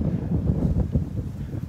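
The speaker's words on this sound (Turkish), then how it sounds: "Ve çok rüzgar ciddi esiyor." Strong winter wind on an empty beach at Ağva, a low, steady rumble buffeting the microphone with no talking, brief and fairly loud.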